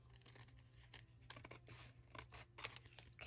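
Scissors snip through fabric for embellishments in several close, crisp cuts with short rustling pauses, spread unevenly over a few seconds with no talking.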